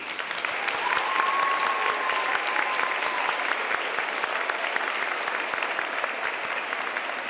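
An eighth-grade ceremony audience gives steady, moderately loud applause for two award runner-ups, a dense even patter of many hands clapping throughout with no talk over it.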